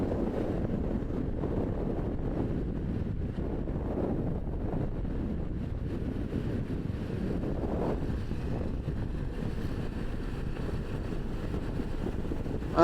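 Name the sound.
icy wind at a mountain pass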